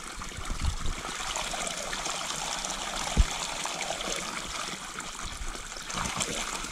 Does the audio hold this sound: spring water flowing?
yes